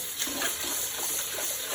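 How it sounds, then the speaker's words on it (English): Cold water runs steadily from a tap over rice being washed in a strainer for grape leaves, a continuous close splashing hiss with no talk. "wash the rice with cold water, drain it"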